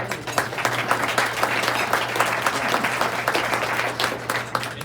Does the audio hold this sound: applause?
yes